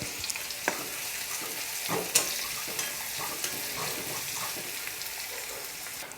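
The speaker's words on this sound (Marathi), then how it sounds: "एक मोठ्या आकाराचा कांदा असा बारीक कापलेला त्याच्यामध्ये टाकून घ्यायचा आहे त्याला एक गोल्डन ब्राऊन रंग येईपर्यंत फ्राय करून घ्यायचं आहे" Finely chopped onion frying in a pan toward golden brown, a steady close sizzle and crackle running throughout with a few louder pops and stirring clinks, no one talking.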